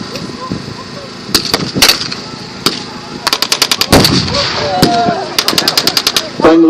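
Gunfire at a WWII battle reenactment with blank-firing rifles and machine guns: scattered single shots, then rapid bursts of automatic fire, sharp and fairly close, over a low background rumble.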